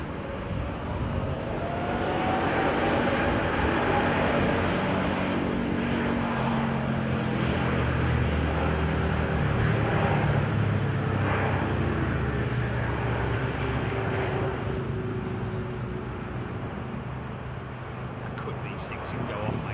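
A widebody extended-range airliner lining up on the runway at London Heathrow, its engines a steady, broad roar with low rumbling tones that swell slightly and hold throughout, with a voice talking faintly over it.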